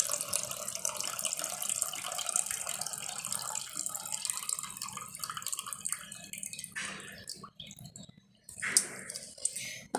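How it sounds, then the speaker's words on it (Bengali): Bitter gourd being washed under running water in a sink, a steady close splashing flow with faint clicks, cutting off into a few brief sloshes and handling knocks near the end. "করলাটা 2বার ধুয়ে নিবে"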